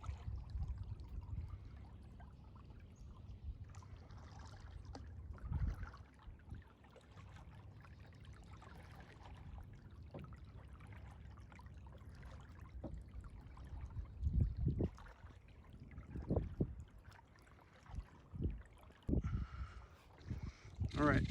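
A paddle dips and pulls through cold, still marsh water in southwest Georgia, giving soft, irregular splashes and trickles, quiet and close, with talking at times in between.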